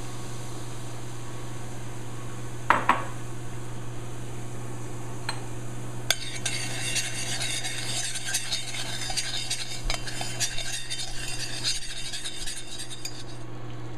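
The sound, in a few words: spice mixture with cumin seeds and allspice frying in a pan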